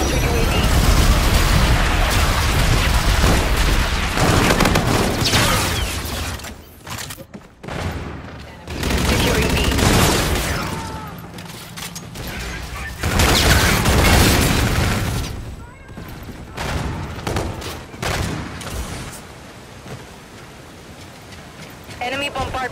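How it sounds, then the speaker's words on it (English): Enemy bombardment in Call of Duty: Infinite Warfare, with heavy, loud, repeated explosions and gunfire pounding in waves and brief lulls between them, and talk mixed in. "Enemy bombardment incoming."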